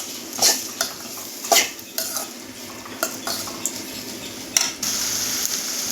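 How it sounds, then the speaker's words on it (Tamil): Onions sautéing in a pan after mustard seeds have popped, with a gentle sizzle under repeated scraping and clinking strokes of a spoon stirring, close and fairly loud. "இப்போ வெங்காயம் போட்டுக்கலாங்க. கொஞ்சம் வெங்காயம் கொஞ்சம் செவக்கட்டும்."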